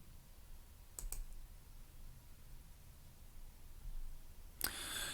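A computer mouse clicks a few times, a quick double click early and another sharp click near the end, faint against a quiet hiss with no voices.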